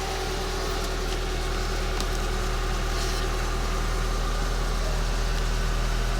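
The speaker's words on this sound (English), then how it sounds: "Let's start the car up." A Renaultsport Twingo 133 with around 100,000 miles idles close by with a steady, even engine rumble and no change in pace.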